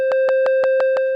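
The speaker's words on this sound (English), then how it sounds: "it's basically just a sine wave now" A steady pure sine tone from a Eurorack modular synthesizer oscillator sounds continuously, with a rapid, even pulsing of brighter bursts riding over it about six times a second.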